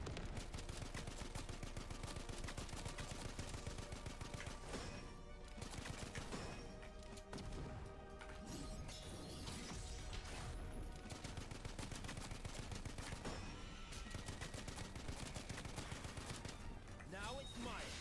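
Rapid gunfire from a video game during a stream, loud and continuous bursts of shots layered over game music and effects, with no clear gaps across the whole stretch.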